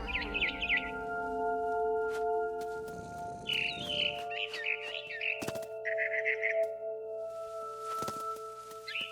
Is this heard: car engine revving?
no